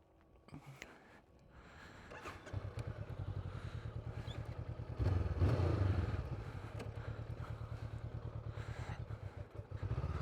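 A Honda CBR500R motorcycle pulling away, its engine building into a steady close putter that rises in revs midway and holds with a rhythmic pulse, with no talk.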